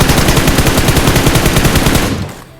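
Rapid automatic gunfire from a prone position in PUBG Mobile, a loud, dense, evenly spaced stream of shots lasting about two seconds before cutting off abruptly.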